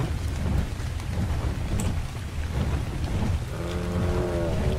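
Heavy rain pours steadily with low rolling thunder in the game ARK Survival Evolved, a dense continuous wash of sound, joined near the end by a brief tonal hum.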